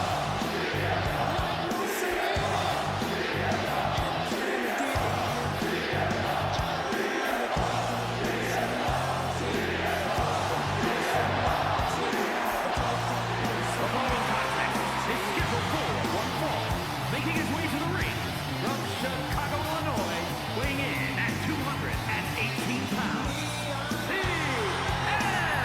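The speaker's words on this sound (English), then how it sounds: "Listen to that crowd." Arena crowd noise in the WWE 2K24 wrestling game on Friday Night SmackDown, a steady loud roar of cheering with rhythmic chanting pulses running throughout under a commentator's voice.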